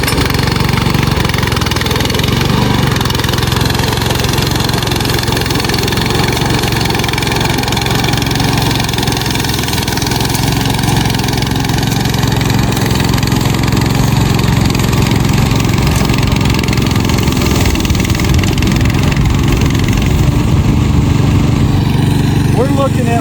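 Loud, steady engine drone of an SDLOOL 750 remote control lawn mower runs close by throughout, a rough mid-pitched motor with a constant low rumble and slight shifts as it moves.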